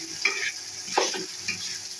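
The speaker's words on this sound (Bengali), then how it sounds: "এখন মা সব ডিমগুলো নামাই দিচ্ছে। নামাই নিয়ে এখন নাড়াচাড়া করে নিচ্ছে।" Eggs fried in hot oil and stirred with a spatula in a pan, a soft steady sizzle broken by a few sharper scraping stirs, close and fairly quiet with no talk.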